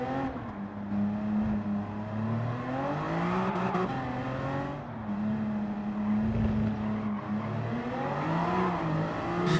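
Gr.3 race car with a 725.7 turbo engine in Gran Turismo 7, droning steadily at high revs with pitch shifts as gears change, continuous and loud with no talk.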